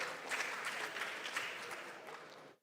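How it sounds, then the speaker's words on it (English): Brief applause from the crowd at a junior science and maths quiz championship, honoring a contestant. The clapping is dense and moderately quiet, then fades and cuts off. "A round of applause for Manuela"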